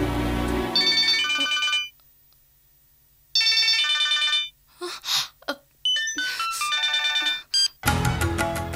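A telephone rings loudly with an electronic melodic ringtone, sounding in repeated bursts with a short pause in the middle, close and without any voices over it.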